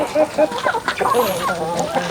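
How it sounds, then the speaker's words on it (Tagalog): Many roosters clucking and calling together in a busy, overlapping chorus, fairly close, with a faint high crow or squawk in the background. "So ang daming tandang."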